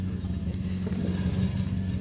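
A historic rally car with a faulty starter motor, kept running after a forest stage, its engine idling with a steady low rumble and light clatter close by.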